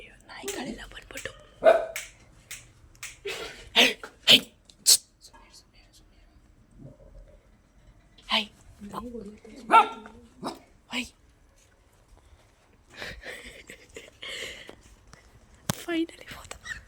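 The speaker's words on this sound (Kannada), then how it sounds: "ನಾಯಿಗಳೆಲ್ಲ ಬಂದ್ಬಿಟ್ಟು" Dogs bark in scattered sharp bursts outdoors, some near and some farther off, mixed with people talking and whispering between the barks.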